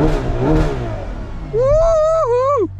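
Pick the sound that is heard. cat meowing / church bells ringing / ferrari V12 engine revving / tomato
ferrari V12 engine revving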